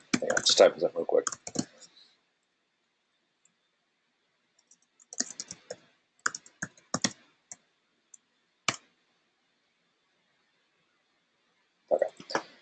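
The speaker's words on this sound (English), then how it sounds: "just typing something real quick" Quick clusters of keyboard typing and clicks come in short bursts separated by silence, close to the microphone.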